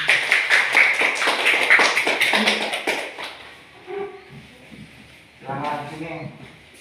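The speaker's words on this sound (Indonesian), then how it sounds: "Kasih tepuk tangan ya." A classroom of students claps for a presenter during a teaching practice session, a burst of dense, rapid clapping over about three seconds before fading into quieter room sounds and some speech.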